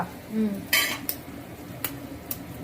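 Pan and utensil clatter over a faint sizzle come from a pan of fried onions, with a couple of sharp clinks and scrapes close by and no talking.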